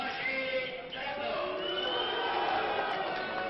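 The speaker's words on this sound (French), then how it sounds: "Très très applaudi, très acclamé." A wrestling crowd applauding and cheering through a hall, a dense wash of clapping, shouts and whoops that swells steadily, with voices talking over the noise.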